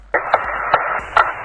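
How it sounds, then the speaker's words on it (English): Hammering a core tube on the Moon during Apollo 12, heard as three sharp taps spaced roughly a third of a second apart, carried over a steady radio-like hum. "That is Alan Bean hammering a core tube during Apollo 12"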